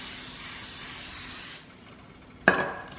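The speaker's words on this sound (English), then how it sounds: "Spray with a little bit of Pam." A close hiss of cooking spray into a pan lasting about a second and a half, then a short pause and a light clink.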